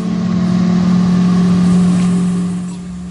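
A Maxivac DS30 all-terrain outdoor litter vacuum machine runs with a loud, steady engine drone and a strong low hum, close by, fading slightly near the end.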